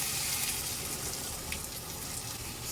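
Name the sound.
pouring ladles of water into thick Ghanaian dish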